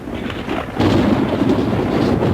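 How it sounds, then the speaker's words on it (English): A deep roll of thunder during a rainstorm, loud and rumbling, swelling after a brief lull and holding steady. "Thunderstorms are nature's way of bringing us rain."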